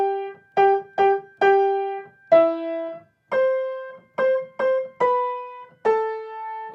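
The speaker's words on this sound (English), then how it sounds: "now in bar 9 we're going to play the whole tune but in octaves" The Waltzing Matilda melody is played in octaves, two pitches sounding together on each note, in a steady sequence of about ten clean, detached notes of varying length with no talking.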